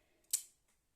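Self-sharpening spring-loaded scissors from a survival gear kit give a single crisp snip, a short bright click with a quick fade, near and alone.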